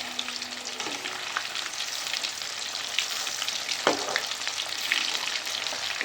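Fish kebab fries in a pan with a continuous close sizzle and crackle, broken by occasional scrapes and pops as the pieces are pressed and moved.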